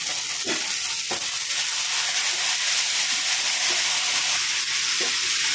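Tomato puree ground in a mixer poured into onions frying for Tamil egg masala, giving a steady, close sizzle with soft stirring scrapes and no talk.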